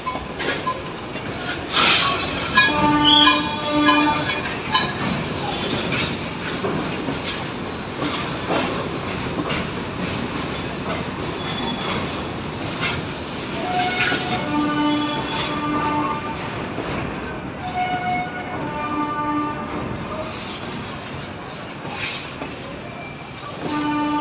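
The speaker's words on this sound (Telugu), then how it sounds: "నీట్గా వెళ్ళిపోతున్నాయి ట్రైన్స్." A heavy loaded train rumbles slowly across a railway bridge in Anantapur at length, wheels squealing in high steady tones and rails clanking, loud and sustained with no speech.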